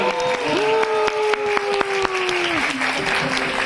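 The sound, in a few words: audience applause at a convention award ceremony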